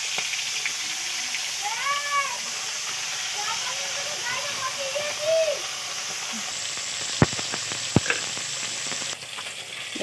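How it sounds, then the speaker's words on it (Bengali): Bata fish fry in a very hot wok, giving a steady hiss and crackle, while a cat meows repeatedly nearby and a couple of sharp clicks land near the end. "দেখো বন্ধুরা, মাছ ভাজা হচ্ছে"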